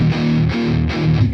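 A distorted electric guitar plays a palm-muted riff on low strings, chugging in short repeated bursts with sustained buzzy tone, loud and close with no talking, from the intro of a song.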